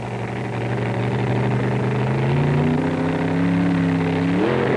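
A supercharged, fuel-burning 1,200-horsepower 1960s drag racing funny car engine under a fiberglass body drones loud and close, its pitch climbing gradually and then jumping higher at the end.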